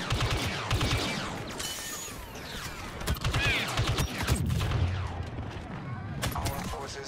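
Gunfire and explosions in a video game battle, with heavy, continuous overlapping shots and blasts throughout and a player talking over the action.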